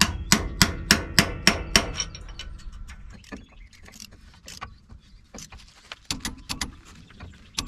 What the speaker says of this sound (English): Reach in with a punch and bend the tab.